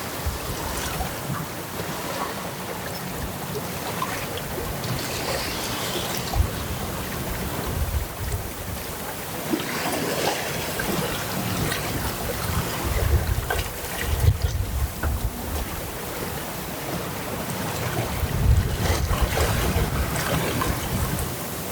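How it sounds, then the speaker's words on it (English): Water fizzes and rushes steadily along the hull of a moving sailboat, with wind buffeting the microphone and occasional louder surges. No voices are heard. "this is the kind of sailing that you can hear the like fizz of the water next to you"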